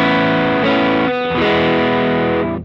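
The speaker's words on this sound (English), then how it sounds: "it's got that really nasally kind of mid-hump thing going on" Electric guitar played through a Sencha Drive overdrive pedal, giving a distorted, nasal mid-heavy tone; sustained chords ring loud and close, with a brief pause before the next chord rings on alone.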